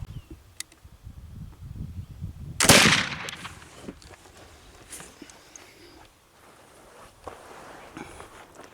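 Black powder rifle shot loaded with 4F powder: a single sharp, loud crack followed by a short fading rumble, with quiet shuffling and faint handling noises before and after.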